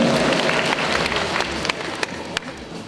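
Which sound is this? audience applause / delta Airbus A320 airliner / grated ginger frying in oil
audience applause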